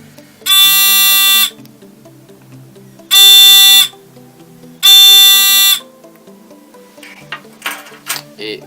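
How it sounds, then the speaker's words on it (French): An electronic buzzer in a homemade light-based alarm circuit beeps three times, each a steady high-pitched tone lasting about a second, separated by short pauses, followed by faint clicks and handling noise. "le buzzer commence à biper quoi"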